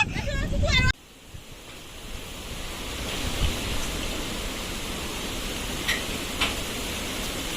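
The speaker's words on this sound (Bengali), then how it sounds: "এখানে দেখুন জলের ঢেউ, দেখুন আপনারা জলের ঢেউটা দেখুন শুধু।" Steady roar of churning water waves and wind during a cyclone in the Sundarbans, loud and continuous, after a brief burst of a voice at the very start.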